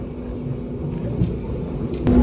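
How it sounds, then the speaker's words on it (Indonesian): The Harina passenger train rolls along just after leaving Padalarang station in Indonesia, a steady low rumble with a faint tonal whine and a sharper clank near the end, heard without talk. "Saat ini kereta api Harina telah meninggalkan stasiun Padalarang"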